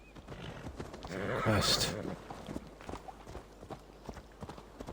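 Horse in Assassin's Creed Valhalla, a loud whinny swelling mid-clip amid steady clip-clop hoofbeats, with a person talking over it.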